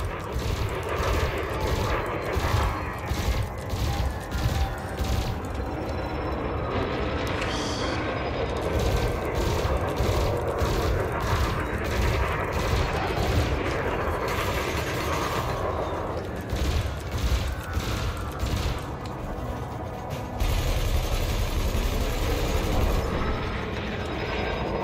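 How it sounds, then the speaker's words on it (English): Spaceship gimbal weapons in a space combat video game fire in steady rapid pulses, a dense mechanical rattle layered over a loud continuous engine rumble with occasional heavier booms. "Your ship's gimbal weapons offer a degree of aiming assistance."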